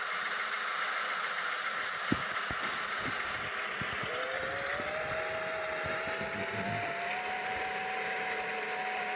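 A small delivery van drives toward a port, with a steady engine drone, mechanical rattles and clicks, and a slowly rising whine in the cabin, no talk.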